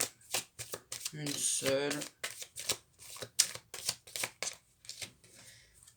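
Tarot cards are shuffled and drawn by hand in a rapid series of close, crisp riffling flicks and slaps with an uneven rhythm, while someone speaks briefly in the middle.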